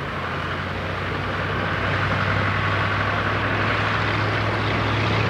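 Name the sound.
propeller fighter aircraft flying stunts at Duxford air show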